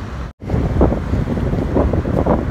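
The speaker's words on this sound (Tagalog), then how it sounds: "Napakalakas talaga ng hangin, super lakas ng hangin." Strong wind roars and buffets the microphone, with a brief dropout near the start, loud and continuous.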